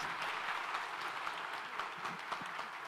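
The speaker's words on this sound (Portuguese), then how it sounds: "Vamos lá, um aplauso para as agências" Audience at an agricultural trade show event giving steady, dense applause, a continuous wash of clapping heard from a moderate distance with no talking over it.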